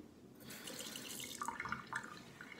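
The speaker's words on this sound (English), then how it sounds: "water." Running water from a tap, a soft, steady trickle that grows slightly fuller with small splashing drips, heard quietly and alone.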